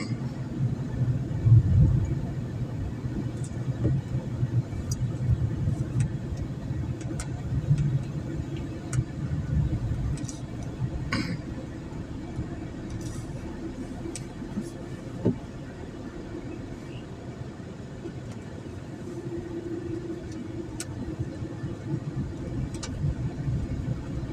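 Car driving along a road past industrial plants outside Tychy, heard from inside as a steady low engine and road rumble with occasional faint clicks, continuous throughout.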